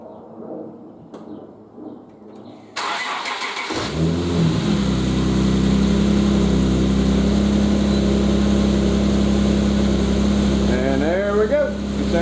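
An Infiniti G37 with a torn intake boot cranks and starts, then settles into a loud, steady idle after a brief silence; a voice speaks faintly near the start.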